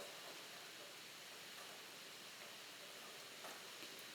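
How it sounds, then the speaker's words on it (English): Steady, even hiss of rain falling, continuous and fairly soft, with no other sounds standing out. "Just continuing to embrace and enjoy the sounds of the rain"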